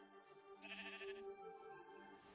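A Minecraft sheep bleats in a few wavering, nasal calls, quiet and somewhat distant, heard alone over faint background game sound.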